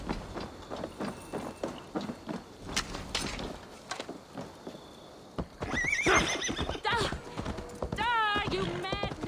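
In the Assassin's Creed Valhalla video game, horse hooves clip-clop along while people talk, then a horse neighs loudly and whinnies again, with a shrill whinny near the end.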